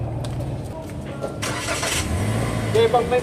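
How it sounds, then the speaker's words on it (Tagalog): A Toyota Rush engine is started during brake repair work: a brief cranking sound, then the engine catches and settles into a low running note, close by and fairly loud. "Pina-start ko itong makina mga boss"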